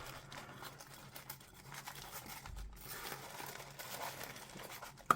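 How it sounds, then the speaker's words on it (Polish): Paper crinkles and rustles quietly as it is wrapped around a box holding a spider being packed for shipping, soft irregular crumpling close by with a sharper sound at the very end. "zawijamy papier"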